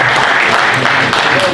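An audience at a celebration of a gusle players' society in Pale claps for honoured guests, a dense steady burst of applause filling the room throughout.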